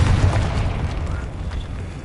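A low rumbling boom from the Confringo blasting spell in a wizard video game, strongest at the start and then decaying into a rolling, crackling tail.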